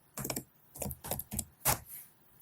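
Keys on a computer keyboard tapped in four short bursts of clicks, close and fairly loud, as a command is typed, with brief quiet gaps between the bursts.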